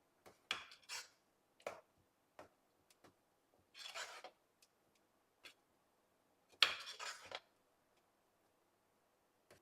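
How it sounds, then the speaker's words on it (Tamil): Masala is tipped into a pot of tempered sambar and stirred in, giving a few soft scraping, rubbing bursts and light metallic clinks separated by quiet gaps, close by, with no talking. "இந்த மசாலாவை எடுத்து இப்போ இதில் கொட்ட போகிறோம் இப்போ இதை கலந்து விடணும்"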